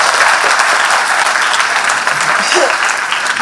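An audience claps loudly and continuously, dense applause from a crowd at a chief minister's public address on education, with no speech over it.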